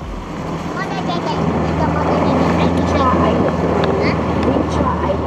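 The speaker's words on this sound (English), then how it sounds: "we went on the speedboat to go to" A speedboat heading for Komodo National Park runs with a steady, loud engine drone and broadband water and wind rush throughout, with a low engine hum underneath.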